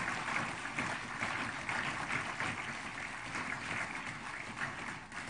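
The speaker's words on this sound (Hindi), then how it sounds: "हम सबकी प्रेममय व्यवहार में हमारी तालियों की गड़गड़ाहट उन तक पहुंचती रहे" Dense, sustained applause from a large ceremonial crowd honouring President Droupadi Murmu, a steady roar of many hands clapping at once, unbroken and even for several seconds.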